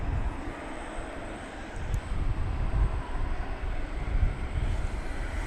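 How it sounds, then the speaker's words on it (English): An American Airlines Airbus A321 jet departs DFW airport at night, its engines a broad, low roar that swells and holds from a moderate distance, with no speech. "going out now is American Flight 2235 to Denver. It's an Airbus A321."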